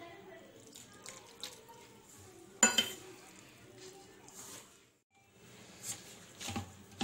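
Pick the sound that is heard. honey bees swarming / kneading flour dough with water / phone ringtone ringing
kneading flour dough with water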